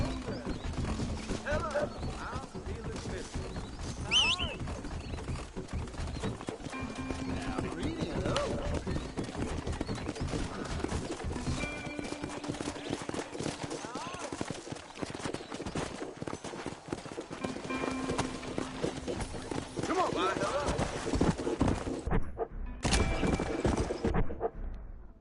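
Horse hooves clip-clop steadily with a horse neighing at times in the video game Red Dead Redemption, while people talk over it throughout.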